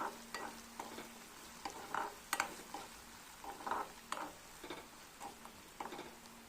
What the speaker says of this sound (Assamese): দেখিছে মই ভাজি আছোঁ